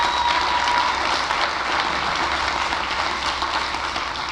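Large audience applauding at a county government address, steady broadband clapping filling the hall throughout, loud and continuous with no talk over it.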